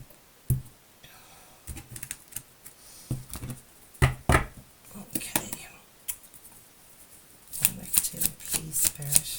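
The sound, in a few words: deck of tarot cards being shuffled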